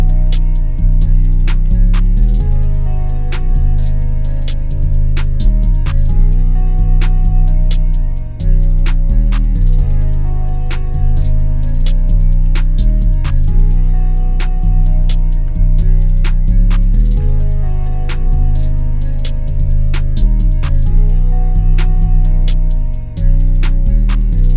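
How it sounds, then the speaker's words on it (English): A steady trap beat plays throughout with deep bass, a regular kick and snare, and quick ticking hi-hats layered on top, loud and continuous. "It sounds like this with the hi-hats."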